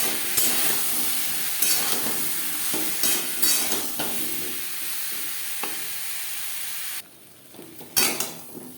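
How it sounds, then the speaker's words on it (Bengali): Potatoes frying in oil in a pan, with steady sizzling hiss and intermittent stirring scrapes, close and fairly loud, pausing briefly near the end before resuming. "আলু ভেজে নেওয়া হয়ে গেছে"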